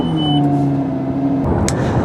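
A car driving along with a steady engine hum and road rumble, close and continuous under a faint tonal whine, no talk.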